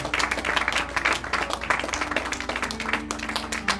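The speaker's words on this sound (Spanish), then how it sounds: "recibe este aplauso, Señor, de tu pueblo que te adora" Steady congregation applause at a church service, with dense clapping throughout, fairly loud and sustained, with no voices standing out.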